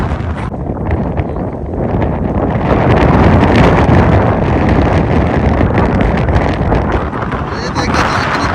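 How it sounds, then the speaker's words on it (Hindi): A strong wind storm roars steadily against the microphone in a dense, loud rush that swells and buffets throughout, carrying water along with it. "बहुत तेज आंधी चल रही है।"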